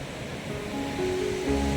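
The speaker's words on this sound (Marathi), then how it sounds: "समुद्रावरती ना इकडं भरती खूप आहे तर पाणी एकदम जवळ आलेलं आहे" Steady roar of ocean surf close by at high tide on Murud beach, Dapoli, a broad wash of breaking waves that swells slightly louder toward the end, with no voices.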